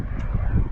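Global Jet Club Hummingbird RC jet with an ACEx-80 turbine making a half-throttle pass, a steady turbine roar with a low rumble, fairly loud and close, mixed with wind noise.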